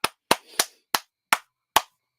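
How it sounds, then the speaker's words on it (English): Six sharp, separate hand claps ring out close and loud in an irregular rhythm, each a crisp smack with a short decay and silence between. "He gets the big clap."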